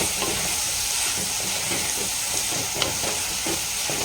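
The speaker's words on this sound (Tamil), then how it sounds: "பாயில் பொட்டேட்டோ வந்து ஆட் பண்ணியாச்சு. சேர்த்துட்டு நல்லா மிக்ஸ் பண்ணிக்கலாம்" Boiled potatoes are stirred into a village-style potato masala in a hot pan, giving a steady sizzle with repeated scraping strokes from the spoon throughout. No one speaks.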